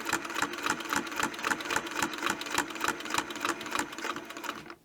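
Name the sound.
Westalee quilting sewing machine stitching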